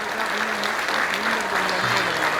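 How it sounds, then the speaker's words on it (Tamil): A large audience applauds performing artists at a public talk, a dense, even wash of clapping throughout with faint voices mixed in. "ஒரு பலத்த கைத்தட்டல் அந்த கலைஞர்களுக்காக"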